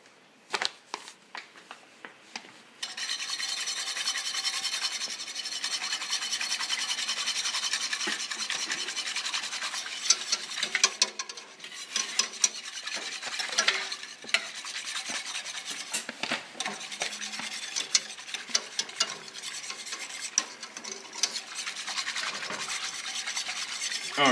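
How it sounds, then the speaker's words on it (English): White flour is whisked into liquid for beef stroganoff, a dense continuous scraping and swishing up close with sharp taps of the whisk against the pan, running steadily for a long stretch after a short quiet start. "And then we're going to whisk in some white flour."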